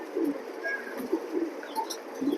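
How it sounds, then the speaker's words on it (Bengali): A racing pigeon coos close by, repeating soft, low, throaty notes in a loose rhythm, with faint background chirps and ambient noise. "খুবই একটা ভালো একটা কবুতর"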